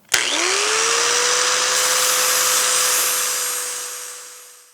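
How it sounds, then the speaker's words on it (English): A power tool bevels the edge and corner of a steel gusset during frame prep, spinning up sharply to a steady high whine with a grinding hiss, then slowly easing off near the end. "I'm just going to put a little bit of a bevel on this one edge and in the corner here."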